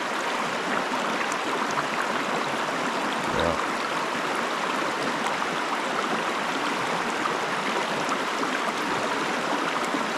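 A river in the Canadian wilderness rushes steadily all around, a constant, loud, close wash of flowing water with no pause.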